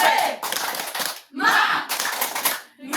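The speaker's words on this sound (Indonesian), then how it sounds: "Ulang 1, 2, 3. Tepuk semangat." A school class claps together in a rhythmic spirit clap, bursts of group clapping in short patterned phrases separated by brief gaps, close and loud.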